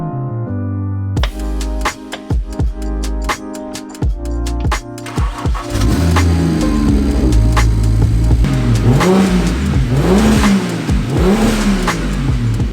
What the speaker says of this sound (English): You still have misfire. You hear it.